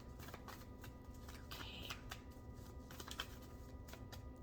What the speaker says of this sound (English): Just going to shuffle these up and think of your first question